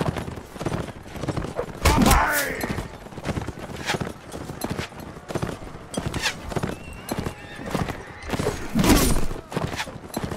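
Horses gallop and neigh during a castle siege battle in the medieval combat game Mount and Blade Warband, with steady hoofbeats, loud whinnies near 2 and 9 seconds, and faint talk mixed into the battle noise.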